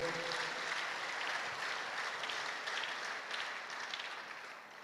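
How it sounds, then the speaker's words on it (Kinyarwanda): A congregation claps during a church service, a dense, fairly soft patter of many hands that carries on steadily and fades a little toward the end. "Tugukomeye amashyi, tugagushimiye rero."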